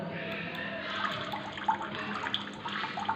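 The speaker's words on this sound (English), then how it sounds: "always water, the sound of water" Water runs continuously in a steady, bubbling rush, like a tap pouring into a basin, with small splashes rising now and then.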